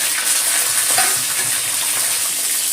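Whole peeled garlic cloves and black cumin seeds fry over low gas in a pan, giving a steady, close hiss of sizzling oil with faint stirring scrapes throughout.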